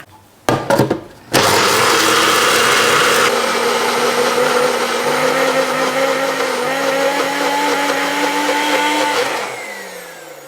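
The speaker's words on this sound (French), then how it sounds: "Donc là, on va le mixer." A blender purees red lentils into a fine paste for lentil tofu: after a few brief starts, the motor roars loudly and continuously with a high whine, then winds down near the end.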